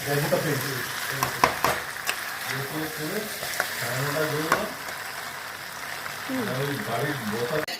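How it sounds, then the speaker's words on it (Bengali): Spices and food sauté in a pan on a home stove, with close, steady sizzling and frying. Occasional stirring clatters sound as a voice talks over it. "আরও একটু কষতে হবে, তারপরে আমি জল দেবো।"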